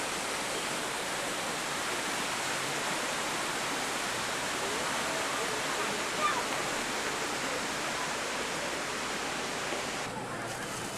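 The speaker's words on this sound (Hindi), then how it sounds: "उसके शेर के मुंह से पानी निकाला हुआ है" Water pouring steadily from a lion-head fountain, a constant full splashing rush that stays even and loud from start to finish.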